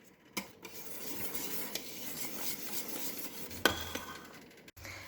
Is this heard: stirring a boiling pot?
yes